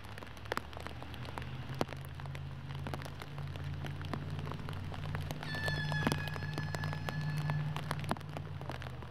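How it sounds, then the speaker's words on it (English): A heavy rain downpour at a wet disc golf tournament course in Portland patters and crackles steadily, with dense close droplet taps over a soft rushing wash and no talking. "Now the downpour is a little bit heavier"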